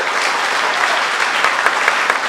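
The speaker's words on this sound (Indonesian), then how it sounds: "Beri tepuk tangan lagi buat Tuhan." A church congregation at a GBI Sunday worship service in Batam breaks into loud, sustained applause, dense steady clapping with a few sharper claps standing out near the end.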